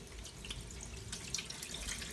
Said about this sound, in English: And then I'm going to rinse it again with cold water. Just wash it, and then again drain.